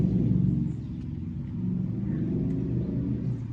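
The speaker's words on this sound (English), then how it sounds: "Some guy's trying to show off his truck." A pickup truck engine rumbles deep and steady as it passes close by, loudest at first, then easing slightly before holding a continuous low drone with no voices.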